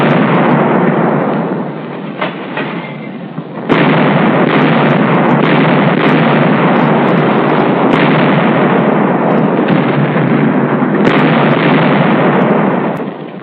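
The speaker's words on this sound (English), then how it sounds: "We landed artillery on the 2 small islands on either side and blasted at close range." An artillery barrage on Kwajalein fires shells at close range, heard as dense, continuous booming and crackling blasts on an old, noisy wartime recording, loud throughout with a sharp jump in intensity partway through.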